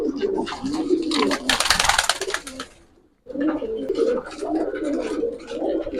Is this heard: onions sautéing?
no